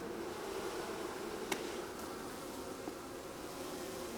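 Honeybees buzzing around an opened hive while comb is being worked, a steady close drone with a faint click or two and no talk.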